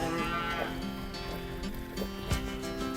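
Cattle lowing at evening feeding time on a Thai farm, a few moos rising over a steady background of farm noise with other animal sounds, fairly distant and moderately loud.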